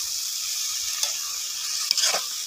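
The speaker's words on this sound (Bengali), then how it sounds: "এখন ঢাকনাটা খুলে আবার নাড়াচাড়া দিবে" Small fish and potato curry being stirred in a pot over a clay stove, a steady close bubbling sizzle with a couple of brief scraping stirs rising above it.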